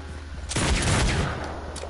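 A short, fairly faint burst of rapid SMG fire comes from a Fortnite match, a quick rattling volley with no talking over it.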